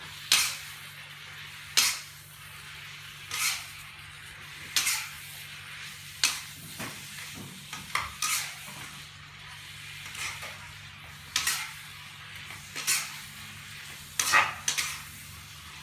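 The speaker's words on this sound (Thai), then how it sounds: "แลก็กะเพราที่ปลูกเองนะคะใส่ลงไปเลย แล้วก็ผัดให้เข้ากัน" Squid stir-fried with homegrown holy basil in a pan: a steady low sizzle beneath sharp, regular scrapes and clacks of the spatula against the pan, roughly every second or two, close and fairly loud, with no talk.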